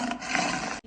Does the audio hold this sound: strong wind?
no